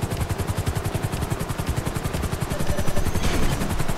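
A video-game helicopter in flight gives a steady loud rotor chop with fast rhythmic thumping and a constant whine, slowly growing stronger toward the end.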